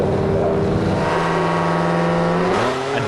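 A Subaru WRX drag car armed with two stages of nitrous launches with a loud, close, rising engine roar that climbs steadily through the gear, then drops and changes pitch near the end.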